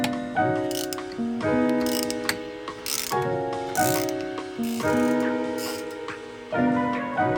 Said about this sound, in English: My next task is going to be to give the grinder a little clean. I'm talking about the actual sort of cogs in it.